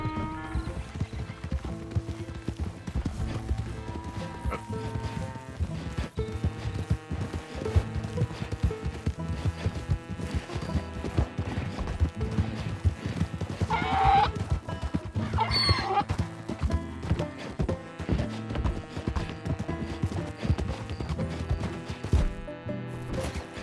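Donkey hooves clip-clopping in the video game Red Dead Redemption 2, a steady rhythmic clatter that runs throughout beneath a dense bed of game music and ambience.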